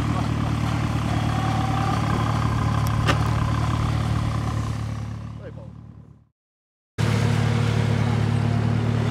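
A Ford Escort RS Turbo engine running steadily on snow near an airport, a loud continuous drone that fades out, cuts to silence briefly, then returns at full level.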